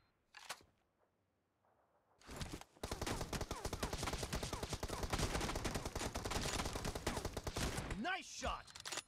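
Sustained automatic gunfire in the battle royale game PUBG, a long dense rattling burst of rapid shots, loud and close, preceded by a few isolated single shots and clicks.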